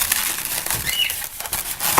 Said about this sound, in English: And yes, I have a bird.